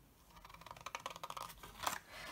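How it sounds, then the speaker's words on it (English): Paper or card being cut out along scored lines with scissors for a test tube shadow box: a quick run of close, crisp snips building in rhythm, with a louder cut near the end, fairly faint overall. "And then you cut all of that out."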